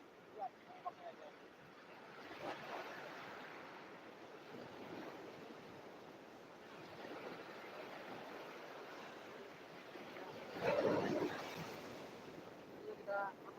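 Ocean surf washing onto a southern beach, a steady broad rush of waves and wind at moderate distance with a brief louder surge near the end.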